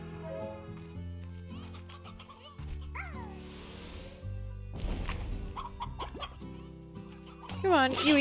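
Chickens cluck in the video game Slime Rancher, with short fowl calls scattered over steady in-game background music and a louder squawking burst near the end.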